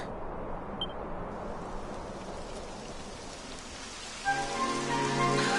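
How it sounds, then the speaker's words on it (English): Rain falling in the video game Dragon Quest XI, a steady hiss of rainfall throughout, with a sustained musical tone joining near the end. "It would have to go and start raining, wouldn't it?"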